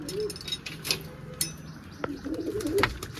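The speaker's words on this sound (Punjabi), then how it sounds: "ਡੋਲੀ ਵਾਲੇ ਕਬੂਤਰਾਂ ਨੂੰ ਸਭ ਤੋਂ ਪਹਿਲਾਂ ਲਓ ਜੀ ਆ ਗਏ ਆ ਬਾਹਰ" Pigeons coo softly in low, rolling murmurs, joined by scattered clicks and light fluttering nearby.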